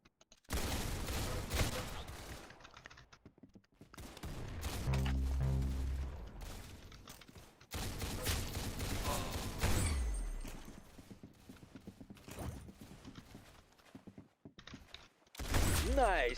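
Bursts of gunfire in a shooter video game, several separated volleys of rapid shots with sharp mechanical clatter between brief quiet gaps, a voice talking over parts of it.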